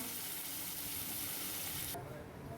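Food frying in a pan while being stirred, a dense steady sizzle up close that drops away sharply near the end.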